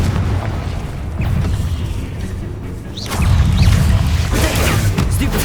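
Confringo blasting curse detonating in Hogwarts Legacy, a loud booming burst with a rolling crash about midway, among dense game effects and low rumbling.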